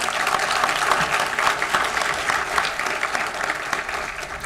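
A university Charter Day audience, asked to stand, applauds honor society officers, with dense, close clapping from many hands that is sustained and fairly loud for several seconds and has no speech over it.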